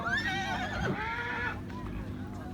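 A horse whinnies loudly and close by at a horse fair in Amreli, a long wavering neigh that trails off, then lower snorting and rustling follow.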